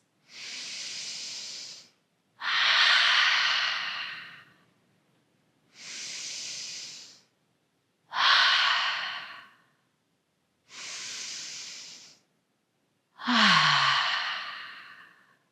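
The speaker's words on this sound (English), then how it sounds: "exhaling through the mouth, we're going to take 3 big, deep breaths" Three slow cycles of deep breathing: a soft inhale followed by a louder, breathy exhale through the mouth, evenly spaced with brief silences between, close and clear, during a yoga session.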